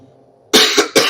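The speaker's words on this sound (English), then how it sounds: "I'm sorry about the coughing" A sudden burst of harsh, close coughing, three quick hacking coughs in a row after a brief quiet moment.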